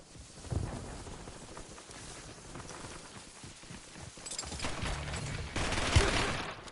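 Video game gunfire in a combat zone: bursts of shots crackle at a moderate distance, picking up toward the end, with footstep-like clatter and background noise between them.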